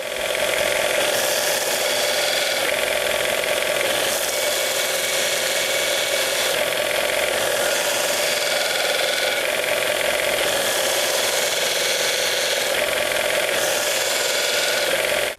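A woodturning skew chisel's bevel is held against a powered sharpening wheel, producing a loud, steady grinding whine with a motor hum and faint rhythmic swells.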